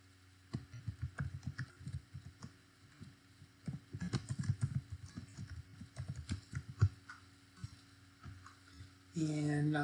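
Typing on a computer keyboard while labelling a chart, a quiet, close run of irregular key taps over a faint hum, ending with a brief louder burst.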